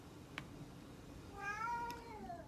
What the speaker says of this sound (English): My kitties are agreeing with me.